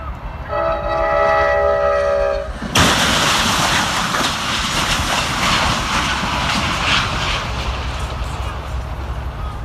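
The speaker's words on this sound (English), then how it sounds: "Amtrak train was traveling at full speed when it collided with a tractor trailer that had gotten stuck on the tracks." Amtrak train at full speed blowing a loud horn, then a sudden crash as it strikes a tractor trailer stuck on the tracks, followed by sustained roaring rail noise and metallic clatter.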